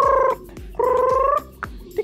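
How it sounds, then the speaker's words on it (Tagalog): Domestic fowl in a backyard flock give two drawn-out, tonal gobbling calls close by, separated by short pauses and followed by a brief clipped cry, with no talking. "So yun yung mga manok natin."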